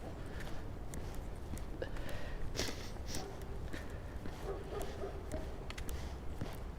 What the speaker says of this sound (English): There's a loud dog somewhere over there.